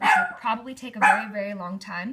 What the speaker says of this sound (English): that's my dog being a guard dog